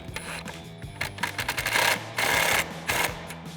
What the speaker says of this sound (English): run that back in with our T15 Torx bit